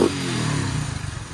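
A modified Hero Splendor motorcycle with a KTM-style exhaust revs briefly, a loud close low engine roar with a throaty, slightly pulsing tone.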